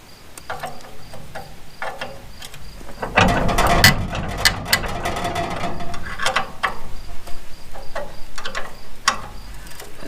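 A hand ratchet clicks in quick, uneven bursts as bolts are loosened during farm maintenance, close and fairly loud, with a heavier clattering stretch near the middle.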